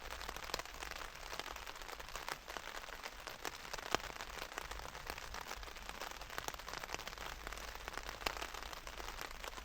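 Steady rain patters on a bivy tent pitched in an urban woodland, a dense, even hiss of drops that continues unbroken and fairly close for the whole stretch with no speech.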